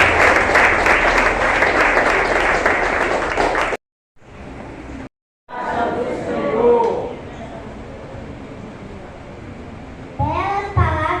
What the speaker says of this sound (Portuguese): Suas palmas agradecem ao nome do Senhor Jesus